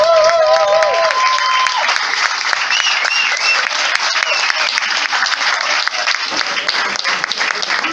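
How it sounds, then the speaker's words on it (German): Sustained audience applause for bands at a live concert fills the whole stretch, dense and steady, with a few brief voices and whistles near the start. "Großer Applaus bitte!"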